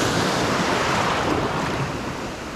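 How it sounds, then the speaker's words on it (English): Waves wash onto a beach at high tide near a sandy spit, converging with foamy backwash, a loud close roar mixed with wind buffeting the microphone, fading slightly toward the end. "Waves are converging on this side, bit of a backwash and eddies and white foaming water on this side"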